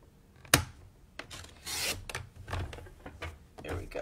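Paper cutter chopping through paper while making a chocolate box, a sharp snap followed by several short rasping, scraping cuts.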